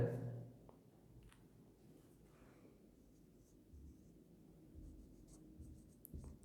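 Marker or chalk writing on a board during a physics lecture on nuclear reactors, soft close scratching and tapping strokes at a modest level, no talk over it.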